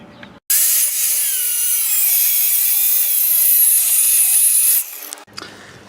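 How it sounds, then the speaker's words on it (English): An angle grinder cuts through a seized suspension bolt on a Chevrolet Trailblazer, a loud, steady, harsh grinding screech that starts abruptly, holds for about four seconds and then cuts off, with no voices. "we ended up cutting the back of this off and then cutting around it with a angle grinder"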